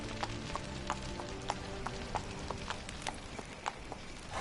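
Rhythmic clip-clop of the horse Roach galloping in The Witcher 3, hoofbeats landing in a quick regular pattern, moderately close and fairly quiet over a soft ambient game background.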